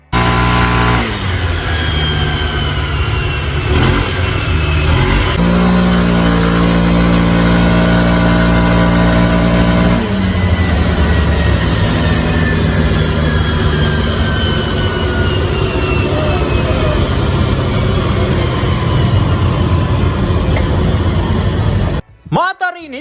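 A Honda Vario 110 scooter engine revs on a dyno during a first test run, a loud sustained drone rising in pitch over many seconds, then cutting off abruptly near the end; a voice talks faintly beneath.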